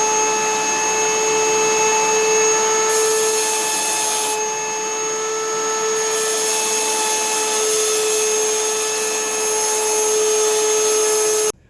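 A ceramic saw cuts sandstone with a steady, loud, continuous high whine carrying strong tonal hums, running unbroken for nearly the whole stretch before cutting off abruptly at the end. No voices.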